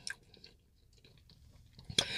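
Crispy Cajun-seasoned fried chicken is chewed up close, soft crunching bites repeating quietly before a louder crunch near the end, with no talking.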